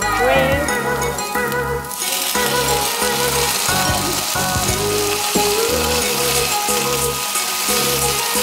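Vegetables sizzle loudly in a hot pan, with a steady crackle and occasional stirring scrapes; music plays underneath.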